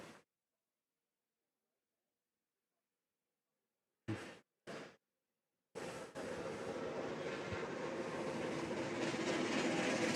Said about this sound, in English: Steam train going past.